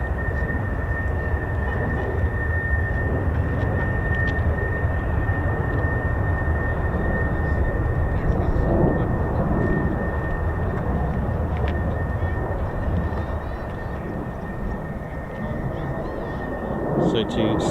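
Fighter jet at RAF Lakenheath with its engine throttled back to idle during a simulated flame out, a sustained distant roar with a steady whine over it, broad and unbroken throughout.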